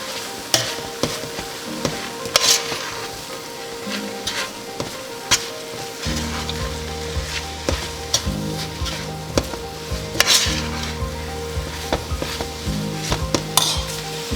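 Shredded chicken stirred into a simmering yellow ají pepper sauce for Peruvian ají de gallina, with a steady pan sizzle, repeated scraping stirs and occasional spoon clinks against the pot, close and moderately loud.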